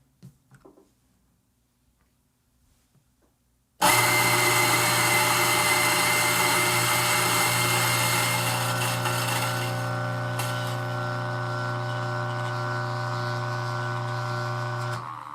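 After a few faint handling taps, a DF83 V2 coffee grinder starts abruptly and runs loud and close with a steady high whirring drone as it grinds straight into a portafilter, holding on for about eleven seconds.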